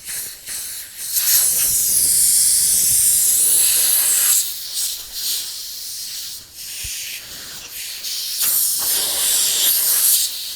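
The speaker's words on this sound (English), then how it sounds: "I'm going to switch over from the Harbor Freight airbrush to the Grex airbrush" A Grex airbrush sprays paint onto a platter with a soft, close hiss in sustained bursts separated by brief dips, with no talk.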